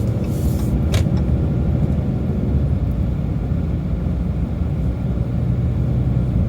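A car drives slowly around a neighborhood park in Middleton, its steady low engine and road rumble close and continuous with no talk.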